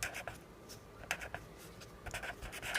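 Pen scratching across paper as a single word is written, a quick series of short rubbing strokes, close and fairly quiet with no voice.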